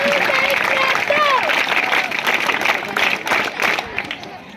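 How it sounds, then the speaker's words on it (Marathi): Applause from an audience at a school event, a dense wash of clapping with voices and shouts mixed in, loud at first and gradually thinning out. "म्हणून पुन्हा एकदा आपल्यासाठी जोरदार टाळ्या वाजवून आपलं कौतुक करू"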